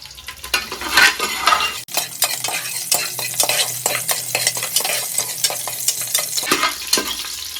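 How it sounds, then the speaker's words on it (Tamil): Curry leaves and green chillies stirred in a frying pan while cooking sambar rice, a loud close sizzle broken by repeated scraping strokes of a spoon against the pan. "கருவேப்பிலை போட்டாச்சு பச்சை மிளகாய் போட்டாச்சு எல்லாத்தையும் சேர்த்து ஒரு கலந்து விட்டுக்கலாம்"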